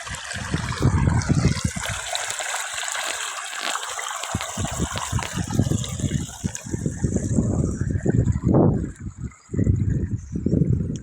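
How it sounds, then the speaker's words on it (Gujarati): Irrigation water flows and gurgles along furrows in a sown field, a continuous rushing with bursts of splashing, close to the listener, wind buffeting the microphone at times. "એવી રીતે આ પાણી જાય છે"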